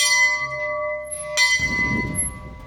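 A small bell rings with steady, sustained tones, then a low, rumbling noise swells in after about a second and a half and carries to the end.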